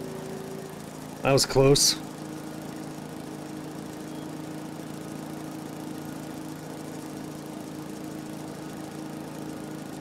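A lawnmower engine drones steadily in Farming Simulator 22, a constant mid-pitched hum filling the whole stretch, briefly interrupted by a short spoken line early on.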